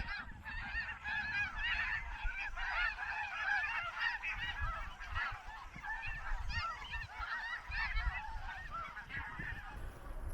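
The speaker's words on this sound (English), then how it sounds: "Right now we've got Ross's geese and snow geese taken off from their wintering grounds." A large flock of Ross's geese and snow geese honks continuously at the Salton Sea, a dense chorus of overlapping calls at a middle distance, with wind rumbling underneath.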